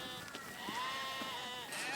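Sheep bleat on a farm, with one wavering call rising out of a dense, noisy outdoor background over a couple of seconds, and no talk.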